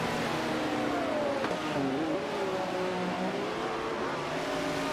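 A pack of cars roars in a computer-driven motor race, with a steady dense engine drone and a single engine whine rising and falling partway through.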